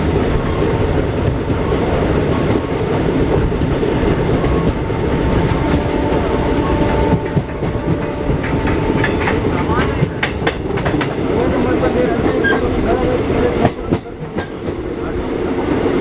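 A passenger train on the Dhanbad to Darbhanga line in India runs on its rails with a continuous close rumble and rhythmic clickety-clack of wheels over rail joints, heard throughout.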